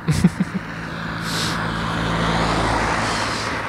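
A car crossing a bridge in a park: a few sharp knocks open, then a low rumbling drone swells and holds steady for several seconds, moderately close with faint wind-like hiss above.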